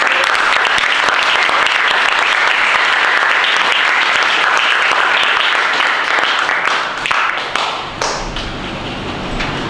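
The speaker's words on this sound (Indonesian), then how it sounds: "Mari kita berikan tepuk tangan sekali lagi." Loud, sustained applause from an audience at the close of an academic seminar session, dense clapping continuing for several seconds before thinning out near the end.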